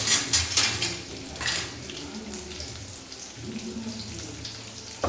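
A ladle stirs and sautés ingredients for fish curry in a pan, with a few sharp metallic clinks and scrapes at the start, then a faint continuous sizzle at close range.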